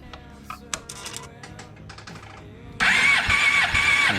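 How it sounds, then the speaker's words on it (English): After a few light clicks and taps, a 2006 Suzuki GSX-R750 motorcycle engine with its spark plugs removed cranks over on the starter, a loud, sudden and sustained whirring drone close by. "pull the clutch in and I'll start it and just turn it over"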